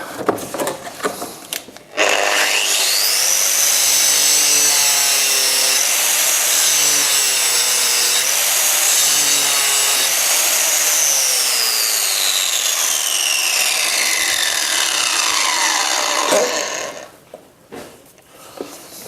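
A Fein 12-125P angle grinder cuts through 10 mm thick steel in one loud, sustained near-field screech lasting about fifteen seconds. The pitch sweeps up and then falls off before the cut stops and the motor winds down.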